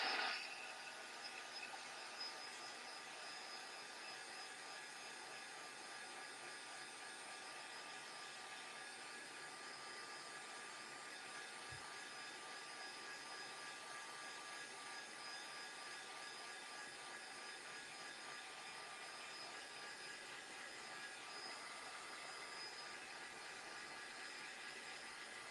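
A dryer blows steadily on a journal page, a constant broadband whooshing hum with no breaks, heard from close by.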